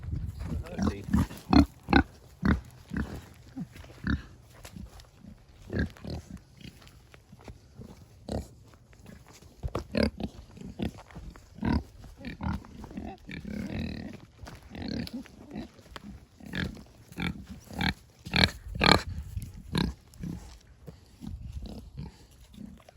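Sows grunt and squabble in a repeated series of close, loud grunts and squeals, restless and irregular throughout, with a voice talking at times.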